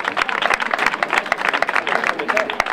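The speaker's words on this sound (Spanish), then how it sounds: "Un aplauso para ese muchacho" Brisk, steady applause from a crowd at a road race award ceremony, dense rapid clapping close by, with a voice speaking over it.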